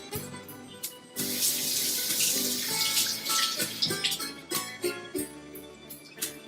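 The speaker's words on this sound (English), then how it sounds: "I'm just going to rinse off my hands." A kitchen tap runs steadily for several seconds while hands are rinsed under it, the splashing shifting and breaking off as the flow changes, close and fairly loud.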